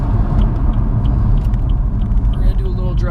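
A BMW F30 335i idles and rumbles in Sport Plus mode as it prepares to drive off after seven months in storage, a steady low engine drone close by and faintly overlapped by a voice.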